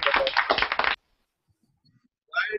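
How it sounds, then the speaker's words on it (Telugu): Children in an online Christian melodies class clap hard in a loud, busy burst lasting about a second, then silence, then a short snatch of voice at the end. "అందరూ క్లాప్స్, క్లాప్స్ కొట్టండి గట్టిగా అందరూ"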